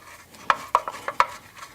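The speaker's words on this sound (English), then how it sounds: "sorry about the noise, but that's these plastic caps." Plastic wheel caps clacking while car wheels are scrubbed clean with Meguiar's Wheel Brightener: a quick series of five or six sharp, hollow clicks and knocks, close and fairly faint, no talking.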